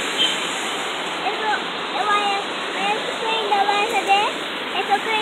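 Water rushing steadily down a water slide, a constant close hiss heard throughout, with people talking over it.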